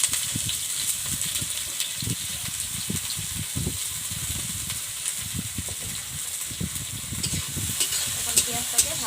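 Finely chopped onions sizzle in hot oil in a pan for a village-style chicken curry, with a steady crackling fry and intermittent stirring scrapes close by.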